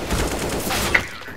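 Automatic gunfire from the video game CS:GO, a dense, steady burst of shots filling most of the moment before cutting off abruptly near the end.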